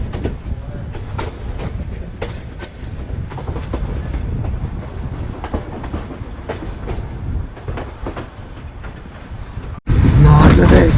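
A train in Yangon, Myanmar runs along its rails with steady rumbling and repeated clickety-clack wheel beats, heard from on board, growing suddenly louder and harsher in the final second.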